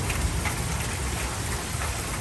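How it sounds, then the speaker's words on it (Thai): Steady light rain falls continuously over an outdoor garden with a mango tree, a dense even patter of drops close by with no voices. "หนึ่งชั่วโมงผ่านไปฝนก็ยังตกปรอยๆ อยู่นะคะ"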